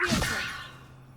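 The Levioso levitation spell cast in Hogwarts Legacy: a single short magical whoosh with a bright shimmering sweep that fades quickly into a low hum, close and alone.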